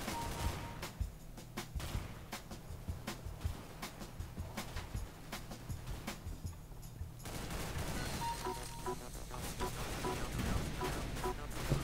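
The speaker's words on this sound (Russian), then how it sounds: "Меня чел с дробовика убил." Shotgun fire in the video game Counter-Strike GO comes as rapid bursts of sharp gunshots over a busy game mix, fairly faint overall.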